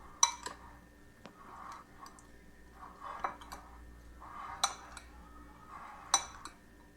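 Chicken tikka marinade with tamarind and onion being mixed in a bowl, giving soft intermittent clinks and scrapes of a utensil against the dish, a few sharper knocks at irregular intervals, no talking.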